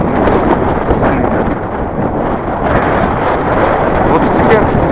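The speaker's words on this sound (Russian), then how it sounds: "Кого дует холодный, сильный." Strong, cold wind blows across the open Tibetan steppe in Sichuan, China. It buffets the microphone with a loud, constant roar and gusts that never let up, and a voice may be faintly under it.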